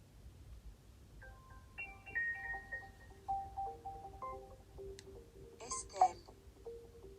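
An S-Tel voice-controlled phone with a physical keypad powering on, playing a stepped sequence of clear electronic tones that rise and fall over several seconds, ending in a short bright chime, while a person talks quietly underneath.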